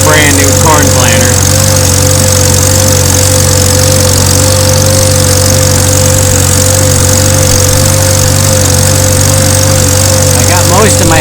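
A 1950s Farmall Super C tractor engine runs while pulling a corn planter, a loud, constant, chugging drone that lasts the whole stretch without pause.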